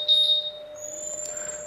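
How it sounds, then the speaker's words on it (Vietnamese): A motorbike answers the find-vehicle button on a DH smart key with electronic beeps, heard as thin steady tones and short chirps close by in a quiet setting. "Đây là nút tìm xe, phạm vi là 100m, không có vật cản nhé. Chúng ta ấn này. Đó, xe sẽ chớp tít tít."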